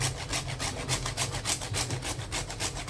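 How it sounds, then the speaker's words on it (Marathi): A whole nutmeg is grated for kheer, making quick, rhythmic rasping strokes close up, about a dozen back-and-forth scrapes in a few seconds with no voices. "थोडं जायफळ पण किसायचे."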